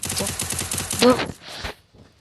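Rapid bursts of double shot gun gunfire from the Free Fire video game crackle in a quick, even rhythm, followed by a louder shot and a short decaying tail.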